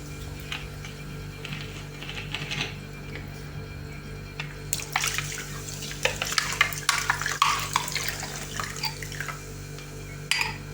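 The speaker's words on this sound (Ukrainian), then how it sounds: "перемішуємо." A spoon scrapes and swishes through thick batter of sour cream and sparkling mineral water in a bowl, soft and close, with wet slapping strokes over a low steady hum.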